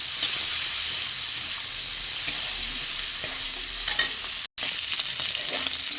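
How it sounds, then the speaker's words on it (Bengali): Shrimp fry in hot oil in a pan, giving a loud, dense, continuous sizzle with faint stirring scrapes close up and a very brief dropout near the end. "এবার মাছগুলো ভালো করে ভেজে নেব।"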